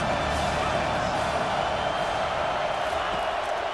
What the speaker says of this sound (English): this crowd is tearing the lid off this place